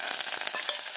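Onion, garlic and curry leaves hitting hot oil over tempering seeds, a dense, bright crackling sizzle with scattered pops, steady and close without talk.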